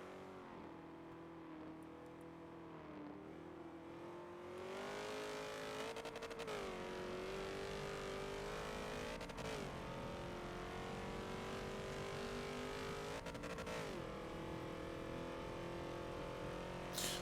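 Race cars scream down the long straight at Le Mans at top speed in the Forza racing game, a loud sustained high-revving engine whine with brief shifts in pitch and layered passing cars.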